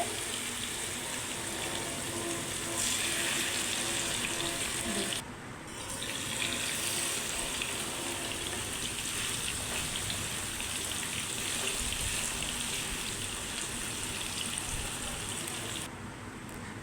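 Fish fries in hot oil over a medium flame, giving a loud, steady, crackling sizzle that runs the whole time with only brief dips and no talking.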